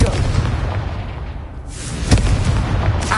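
A Confringo blasting curse from Hogwarts Legacy bursts with a booming explosion amid continuous loud game ambience and combat noise, with a sharp blast near the end standing out.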